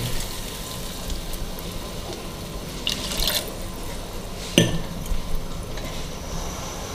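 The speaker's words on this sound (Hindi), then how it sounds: "बस हम पानी डालेंगे" A short splash of water poured into a pot of mutton kofta curry, with a brief gush and a clink against the pot, over steady background hiss.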